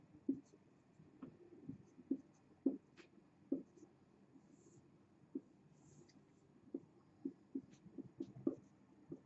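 Marker or pen writing on a board while an LTE network architecture diagram is drawn: quiet, intermittent scratchy strokes and taps in irregular bursts, close and soft, with no talk.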